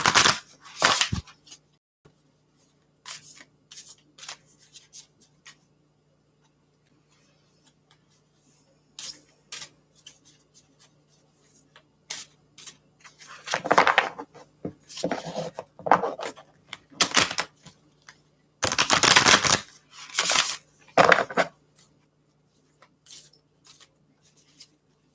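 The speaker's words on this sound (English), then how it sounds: "let me go ahead and shuffle." Oracle cards shuffled in short bursts of crisp riffling and sliding, close and fairly quiet, with pauses between them and a soft low hum underneath.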